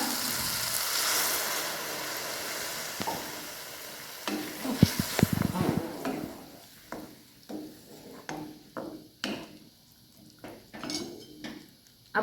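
Jujube (bor) vegetable sizzles and fries in a pan, with steady hiss at first, then a burst as hot water is added, followed by repeated clinks and scrapes of a utensil stirring against the pan.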